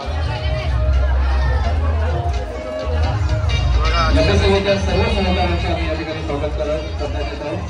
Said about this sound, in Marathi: अशी काहीशी गर्दी आहे,